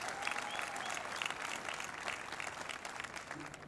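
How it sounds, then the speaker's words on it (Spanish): An audience claps for teachers at the launch of the national teachers' sports games, a dense, even patter of many hands that sounds faint and distant throughout. "Un aplauso a todos los docentes que se encuentran hoy acá"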